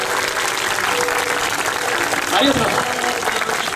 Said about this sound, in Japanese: 盛大なる拍手、ありがとうございます。